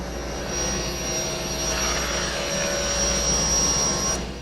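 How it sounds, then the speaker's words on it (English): A table saw with a raised blade rips thin eighth-inch feather strips from boards passed on edge against the rip fence, a steady, loud, close whine and roar lasting several seconds without talk. "I've raised up my saw blade and set my rip fence at 1/8 of an inch, and I'll pass these boards over on edge"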